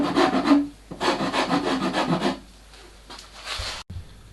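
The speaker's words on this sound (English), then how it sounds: "I'm using a file as a rasp to do this" A metal file used as a rasp scrapes back and forth across toolbox hardware in three or four bursts of harsh rubbing strokes, close and fairly loud, then a short quiet stretch and a faint knock.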